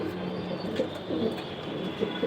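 Racing pigeon in a loft cooing, soft low coos repeating nearby over a faint constant hum.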